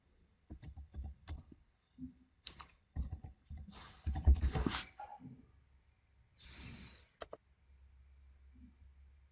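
A device name is typed on a computer keyboard in uneven bursts of close key taps, with breathing or snorting sounds mixed in and a short pause before the last few keystrokes.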